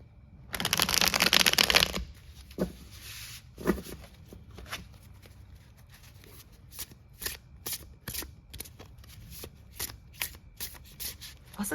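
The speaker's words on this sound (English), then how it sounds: "This is the crispiest shuffle you're ever going to hear." Crisp shuffling of a tarot card deck, opening with a dense riffle burst, then a long series of sharp separate card flicks and taps, close and intimate with no talk.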